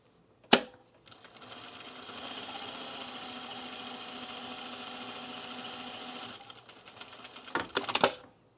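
A sewing machine stay stitching a Carolyn pajama top, running in one steady close whirring burst of about four seconds, bracketed by sharp clicks and handling knocks before and after.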